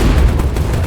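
A ship exploding in the naval video game Age of Water, a short, heavy booming blast with a low rumble, loud and up close, heard without any speech.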